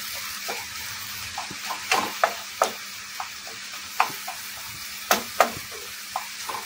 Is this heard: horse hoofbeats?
no